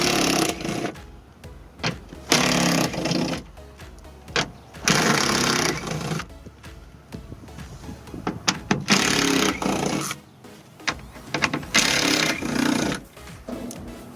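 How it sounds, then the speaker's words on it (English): Socket wrench with a 10mm socket removing bolts from a Mazda CX-7 rear door, producing bursts of rapid ratcheting and metallic clicking separated by short pauses, close up. "Now we can go ahead, 10mm socket, and start removing a few bolts"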